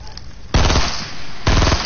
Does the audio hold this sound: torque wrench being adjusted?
no